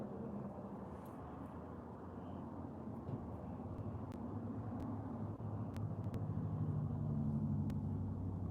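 Cars pass outside a home during laundry, a steady low traffic rumble that is faint and distant and swells slightly toward the end, with no talk over it.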